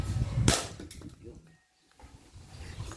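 Airsoft gas pistol fired once at about 5 meters, a single sharp close crack standing out early, followed by quieter room noise and brief gaps.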